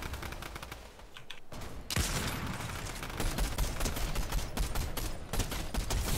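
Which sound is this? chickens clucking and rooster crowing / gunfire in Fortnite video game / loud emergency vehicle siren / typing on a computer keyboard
gunfire in Fortnite video game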